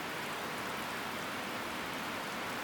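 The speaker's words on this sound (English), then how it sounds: "It's raining." Rain falls steadily outdoors in a dense, even hiss of drops striking surfaces, constant and unbroken for its short length, with no talk over it.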